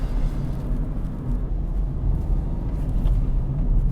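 Interior cabin noise of a 2019 Kia Picanto 1.0 on the road, a steady low rumble of tyre and road noise with little wind, continuous and even throughout.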